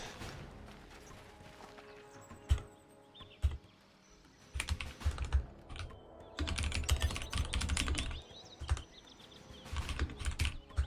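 Rapid keyboard typing during a live esports match broadcast, bursts of clattering keystrokes that come and go, loud in stretches with quieter gaps between.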